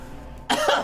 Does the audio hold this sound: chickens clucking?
no